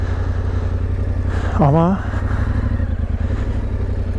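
A motorcycle engine runs loud and close with a steady throbbing drone while riding through a national park, and a voice briefly cuts in partway through.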